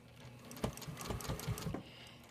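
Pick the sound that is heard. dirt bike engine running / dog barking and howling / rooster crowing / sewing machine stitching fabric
sewing machine stitching fabric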